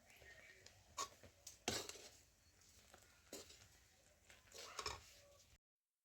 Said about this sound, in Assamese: এয়া এতিয়া গুৰ মিঠাইত চুজিখিনি ঢালি দিয়া হৈছে